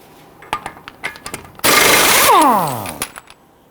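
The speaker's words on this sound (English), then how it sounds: "We're going to use a 32mm socket to loosen and remove the axle nut." A 32mm socket on a power tool loosens the front axle nut of a 2011-2017 Nissan Quest: a few light clicks, then a loud, close burst of rattling lasting over a second, ending in a falling mechanical whine.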